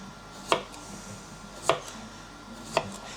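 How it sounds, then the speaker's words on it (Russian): A knife chops fresh cucumber on a cutting board, three crisp, evenly spaced cuts about a second apart, close and clear against a quiet kitchen background. "И к нашему блюду я решил порезать немножко огурчик."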